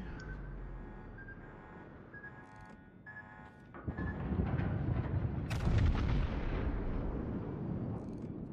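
Battleships fire high-explosive shells in the naval game World of Warships. A quieter stretch with faint electronic beeps gives way to heavy, rumbling salvo booms that swell loud midway and linger.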